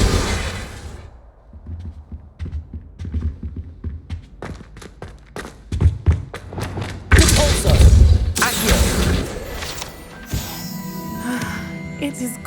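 A Bombarda spell blast in Hogwarts Legacy lands as a loud, broad burst after a run of tapping footsteps and thuds, followed by a rumbling tail and game music, with spoken dialogue around it.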